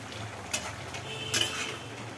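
A simmering pot of jackfruit and prawn curry being stirred, two quick metallic scrapes of a spoon against the pot over a low bubbling background, close and fairly quiet.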